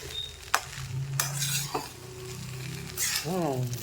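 Potato rice is stirred in a pan with a spatula, making soft scraping and a gentle sizzle. Several metallic clinks and knocks from the utensil against the pan stand out, all close and moderately quiet, with no speech.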